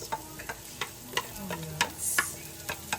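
Onions sauté in a pan for pork dinuguan, a quiet crackling sizzle broken by about a dozen sharp spatula taps and scrapes at an uneven pace, close, with no speech.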